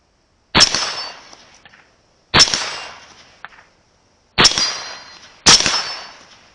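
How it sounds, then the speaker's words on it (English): Four sharp, loud gunshots fired at a target 50 yards away, arriving in irregularly spaced pairs, each a crisp crack followed by a short fading tail, with no talking. "Let's shoot the target a couple times."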